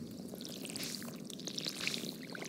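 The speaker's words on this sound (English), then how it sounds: "That's what that sound was when you're doing the iridium watering can." Water pours steadily from an iridium watering can in the Stardew Valley video game, a soft continuous splashing trickle with bright little droplet sparkles, fairly quiet and unbroken for a couple of seconds.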